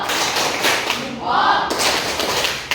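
A classroom of pupils claps a short rhythmic cheer chant together, several bursts of applause-like claps filling the room, loud and close.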